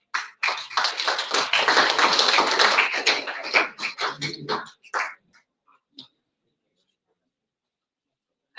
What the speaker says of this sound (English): A huge round of applause for this digital milestone.